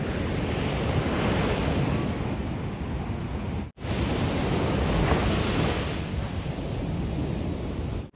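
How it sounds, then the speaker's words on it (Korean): Big ocean waves rolling onto Chuam Beach on Korea's east coast near Donghae and Samcheok, a loud, steady wash of surf mixed with wind noise, briefly cut once, no voices. "큰 파도가 엄청나게 밀려오고 있습니다."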